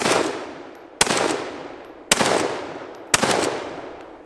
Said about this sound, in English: what we're going to need to do is zero the shotgun